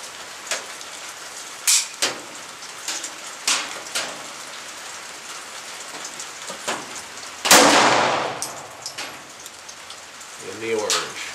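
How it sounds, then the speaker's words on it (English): A Heckler & Koch P7 compact 9mm pistol is fired at an outdoor range: sharp cracks come at irregular intervals, mostly moderate with one much louder, longer blast. A voice is heard briefly at the end. "Let me shoot the P7 and then I'll show you the target."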